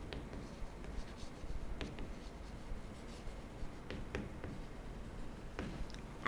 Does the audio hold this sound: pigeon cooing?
no